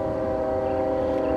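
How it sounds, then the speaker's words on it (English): A train passes outdoors at dusk, a steady, loud tonal drone with layered pitched lines over low rumbling, holding evenly for the whole moment with no speech. "There's the train."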